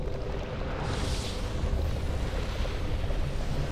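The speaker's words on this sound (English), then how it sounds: "Volcanic explosions." Deep, rumbling volcanic explosions in the underwater game Subnautica roll on as a continuous low roar with a brief hissing surge, loud and steady throughout.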